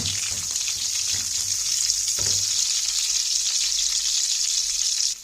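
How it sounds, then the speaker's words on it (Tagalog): Onion frying in a pan for beef igado, a loud, constant bright sizzle with a brief stir or clatter near the start, close up. "Ilunod ko na ang onion."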